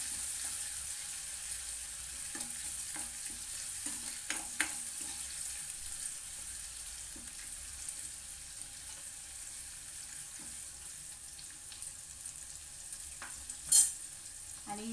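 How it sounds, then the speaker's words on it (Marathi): Onion, curry leaves, ginger and garlic frying in hot oil for a spicy tempering, a steady hiss with occasional faint stirring scrapes and one brief louder clink near the end, no voices. "फोडणी आपली चांगली तेलामध्ये परतून घ्यायची."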